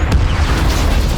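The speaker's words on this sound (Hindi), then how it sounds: "कुछ ही सेकंड में वह बेकाबू होकर इधर उधर घूमने लगा और एक जोरदार धमाके के साथ क्रैश हो गया।" A helicopter crashes with a powerful explosion in the 2021 film The Tomorrow War, heard as a loud, sustained low boom and rumble that fills the whole moment with no voices.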